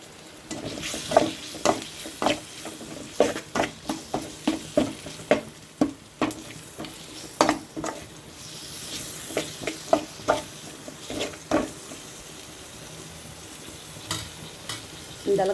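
Tomatoes sautéing in a frying pan for egg macaroni, with a steady soft sizzle under repeated sharp scrapes and knocks of a spoon stirring against the pan, close and fairly loud throughout.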